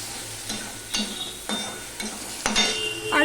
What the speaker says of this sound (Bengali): এবার আদাটা একটুখানি ভাজা হয়ে আসলে